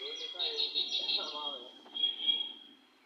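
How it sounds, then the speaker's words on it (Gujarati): Birds chirp in short, high repeated notes a little way off, with a voice speaking softly underneath. "મસ્ત પક્ષીઓનો અવાજ"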